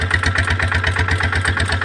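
A tractor engine runs steadily while seeding a field, its close, loud pulsing throb repeating in an even rhythm with no talk over it.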